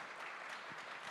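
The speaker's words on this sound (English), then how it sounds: "Clap if you think we should start or if we should wait" A crowd at a hackathon opening ceremony in Lisbon claps in a brief, steady burst of many hands, heard faintly and a little distant with no talking.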